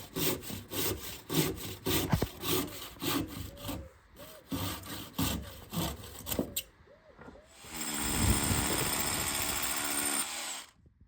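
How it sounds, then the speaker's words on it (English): A sharp handsaw cuts by hand through a wooden garden sleeper, close and loud, with steady rasping back-and-forth strokes, followed by a longer, continuous harsher stretch of sawing near the end. "You can cut sleepers down by hand, it's just a lot more effort. And you can get a really clean cut using a handsaw"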